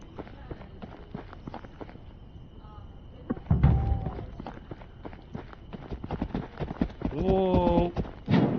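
Horse hooves clop in a steady rhythm in the fantasy survival video game Ars Notoria, with thuds and a few snorting or whinnying sounds rising toward the end, fairly close.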